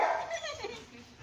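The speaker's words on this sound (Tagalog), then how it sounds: "Naligaw na aso." A stray dog gives a short, high whimper that trails off into a soft whine, close by, with faint background noise.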